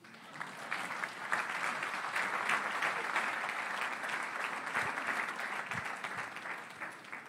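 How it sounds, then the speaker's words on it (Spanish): A church congregation applauding steadily and warmly, a dense sustained wash of many hands clapping at moderate distance that holds for several seconds before tapering slightly at the end. "Dese un aplauso a sí mismo."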